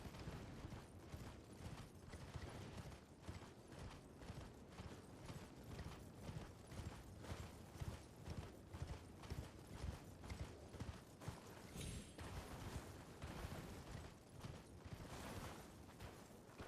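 Steady clip-clop of a ridden horse's hooves in a video game, a quick even rhythm of soft thuds repeating throughout, fairly quiet with a mechanical undertone.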